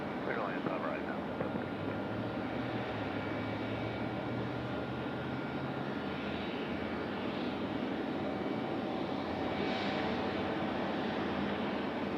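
Arriving airplane jet engine at Raleigh-Durham International Airport, a steady broad roar filling the whole stretch at fairly close range, with a person talking underneath.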